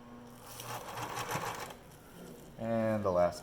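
Sewing machine stitching pleats on a fabric face mask, a soft whirring run beneath a person talking throughout, with brief pauses in the stitching.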